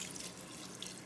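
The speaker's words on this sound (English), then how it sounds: "So now we're going to add some water." Water from a quart container pours into a pressure cooker, a steady close splashing gush that runs throughout without any talking.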